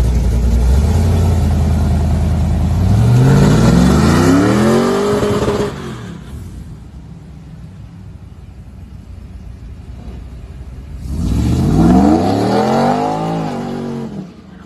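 A cammed LS-swapped truck pulls away loud and close, engine climbing through rising revs, then fades to near quiet before a second strong rev swell returns; no talk.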